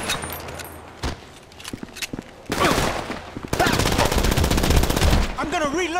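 Rapid automatic gunfire bursts in Grand Theft Auto V gameplay, loud dense volleys with sharp shots, amid a chaotic firefight with shouting voices.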